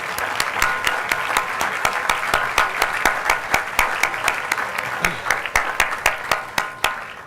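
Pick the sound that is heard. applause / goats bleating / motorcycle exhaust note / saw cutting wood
applause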